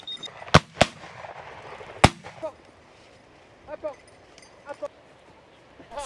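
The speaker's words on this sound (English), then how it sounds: "The guns are getting into the swing of things too, bringing down the birds as surely as any modern breech loader." Black-powder muzzleloader shotguns fire at driven birds, three sharp loud bangs close together early on and a few fainter distant shots later, with German shorthaired pointers working nearby and scattered voices in the background.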